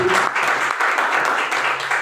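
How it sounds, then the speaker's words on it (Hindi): Steady, dense applause from an audience at a business meeting, loud and continuous for about two seconds with no pauses. "तो जोरदार तालियां होनी चाहिए।"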